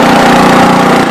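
An Ariens snow blower engine runs loud and close with a steady, even drone and a low rumble. No voices break in over it.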